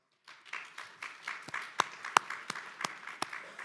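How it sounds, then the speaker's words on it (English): Audience applause at an outdoor school ribbon-cutting ceremony, a thin, moderately distant patter of clapping that starts abruptly and carries on with a few sharper individual claps standing out. "give him a round of applause"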